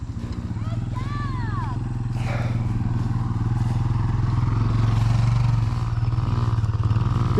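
A child rides a dirt bike around a dirt turn track, its small engine droning steadily and loudly at close range, rising slightly as the throttle opens, with faint clatter over it.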